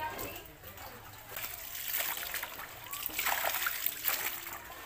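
Muddy floodwater splashes and sloshes close by in a home after flooding, uneven bursts of spattering and trickling that grow busier toward the end, with a voice faintly present.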